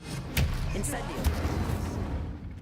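Incendio fire spell cast in Hogwarts Legacy, a few short whooshing bursts and booms over a busy game soundscape, with a voice speaking at the same time.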